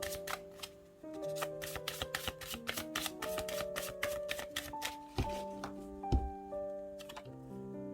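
Tarot cards riffled and flicked in a rapid run of crisp, close slaps and taps, with a few sharper snaps standing out against a soft background of music.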